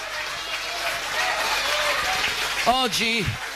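Steady applause from an audience for a performer at a tribute concert honouring a singer, a continuous wash of clapping with a voice rising over it near the end.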